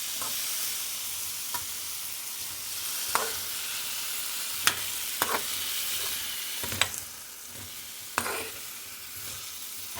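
Potatoes fry in a pan with spices for a Bengali aloo chorchori, a steady sizzle broken by several sharp scrapes and clinks of a spoon stirring, close up with no voices.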